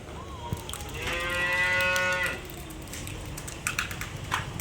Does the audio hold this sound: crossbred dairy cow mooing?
yes